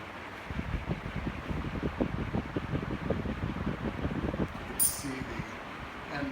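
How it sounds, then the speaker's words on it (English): A 56-inch ERS industrial fan running, producing a steady rushing airflow with a fluttering low rumble from the blades, fairly quiet and continuous, with a brief sharp clatter near the end. "Very, very, very large amount of air that this fan is moving. It is a very, very powerful fan."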